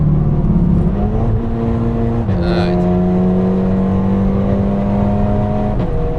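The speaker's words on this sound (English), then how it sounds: "I'm flat on the gas and barely moving away" Audi S3 engine at full throttle during a racetrack lap, with a loud, steady, close drone that shifts pitch once partway through, like an upshift, and keeps pulling hard to the end.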